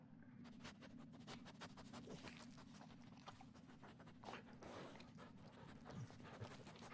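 A dog in the horror video game Blair Witch pants quickly and steadily throughout, close and fairly quiet, with faint rustling footsteps alongside.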